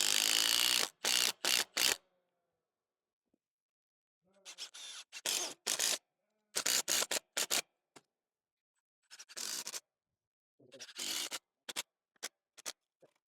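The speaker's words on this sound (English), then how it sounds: "I'm going to go ahead and fasten this device to my post." GRK screws are driven into a gate post to fasten a Ghost Controls dual automatic gate opener, with a power driver making short, loud whirring bursts in several separated runs and quiet pauses between them.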